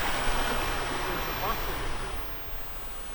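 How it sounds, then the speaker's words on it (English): Water running through an ancient hand-dug mine aqueduct, a steady broadband rush close by with no clear pauses, continuous for the whole stretch. "There's still some water flowing through the ancient aqueduct system"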